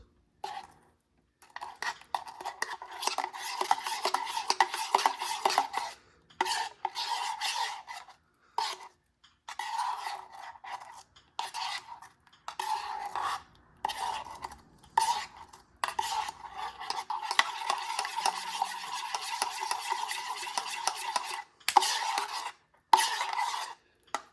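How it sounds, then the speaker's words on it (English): A spoon rasps and scrapes around a container, stirring a Brazilian army ration breakfast in steady bursts separated by short pauses; the sound is close and fairly quiet. "I just need to spend half a video stirring"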